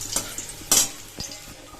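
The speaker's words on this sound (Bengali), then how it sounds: "এই দুটোকে আমি ভালো করে লাল লাল করে ভেজে নিই" Garlic and dry red chillies frying in mustard oil in a kadai, a steady sizzle broken by a few sharp spatula strokes and scrapes.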